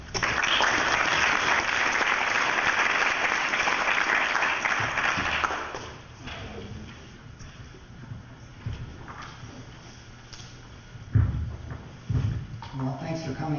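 Audience applause for a speaker on a winter at the South Pole station, fills the first six seconds as a dense steady clapping, then drops away into quieter room sounds with a few thumps as he begins speaking.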